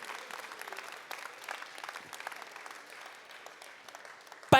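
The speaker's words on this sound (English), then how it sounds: "Fürs Deutsch könnt ihr auch nochmal applaudieren" Audience applause at a Gran Turismo World Tour event at the Nürburgring: steady, fairly distant clapping from a crowd that carries on evenly for several seconds.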